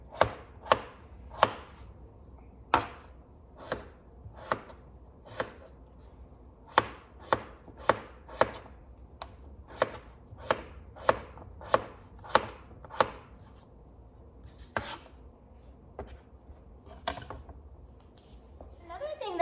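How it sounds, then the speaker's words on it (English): Potatoes are diced into small square bites on a cutting board, with sharp knife chops landing in quick bursts and short pauses, close and distinct, and a voice talking faintly at times. "we are looking for just small little square bites of potato to fit perfectly on a spoon"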